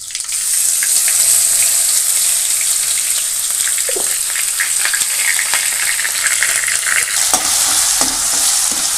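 Mustard seeds and red and green chillies frying in hot oil for a sorrel-leaf chutney, a loud continuous sizzle with crackling spatters and occasional stirring scrapes throughout, no voices.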